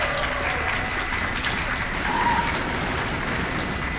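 A crowd at Awesome Games Done Quick applauds in a steady, dense clatter of clapping that carries on evenly throughout.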